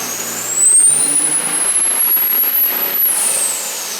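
A 1400 hp nitrous 5.9L quad cab truck making a dyno pull, its engine roaring loud and close in a sustained run while a high whine climbs, holds and then drops away near the end.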